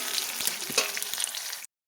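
Potato pieces frying in hot oil sizzle and crackle close by in a bright, steady hiss with a few stirring knocks, then cut off abruptly.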